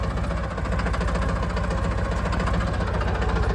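A tractor engine runs close by with a steady, throbbing low rumble and a rapid regular pulse, loud and continuous.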